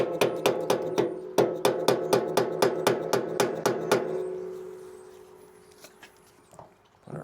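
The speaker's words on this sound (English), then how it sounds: "I'm just going to try to separate this carburetor from the intake." Light hammer taps against an old carburetor stuck to the intake of small power equipment: a fast, steady run of about fifteen sharp metallic knocks, close and clear, then quieter scattered clunks as the parts shift.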